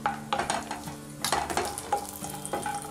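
Cashew nuts frying in hot ghee for Kerala chicken biryani, soft sizzling close by with repeated scraping and clinking of a spoon stirring them in the pan, no talking.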